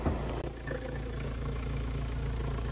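A Kia Sorento 2.2 diesel engine idles steadily up close, a constant low rumble with fine mechanical clatter running throughout, no voices over it.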